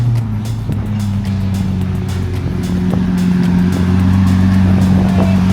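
A Lamborghini Aventador SVJ engine revs and roars nearby, a steady loud low rumble that builds slightly in intensity over several seconds.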